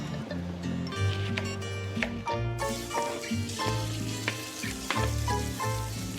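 Onions, garlic and cuttlefish fry in a pan, a steady close sizzle with stirring scrapes, under a loud low background hum or music that runs throughout.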